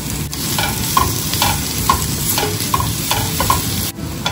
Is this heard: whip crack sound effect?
no